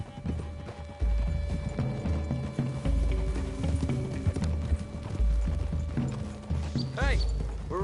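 Several horses' hooves clip-clop steadily on the ground in Red Dead Redemption 2 as riders move through trees. The hoofbeats are close and rhythmic, with gear clinking and a horse briefly whinnying, while voices talk over them.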